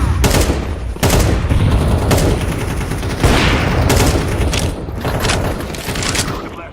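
Rapid bursts of gunfire and grenade blasts in a Counter-Strike 2 match, loud and dense throughout, with sharp broadband cracks at intervals over continuous firing.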